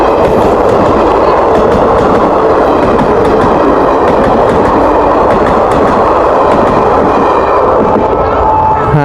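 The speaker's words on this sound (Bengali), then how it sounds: "তো এই ট্রেনটার লেগেই কিন্তু এতক্ষণ ধরে আমাদেরকে দাঁড়াতে হলো" A train passes a level crossing close by, a loud, continuous rolling rumble with rhythmic clickety-clack of wheels over rail joints sustained across the whole stretch.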